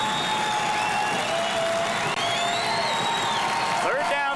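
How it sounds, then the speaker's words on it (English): Tractor football fans in the stands roar and cheer their defense on a third down at a high school game, a dense sustained crowd noise with whoops, under announcer commentary. "The Tractor fans in front of us standing up and cheering their defense on."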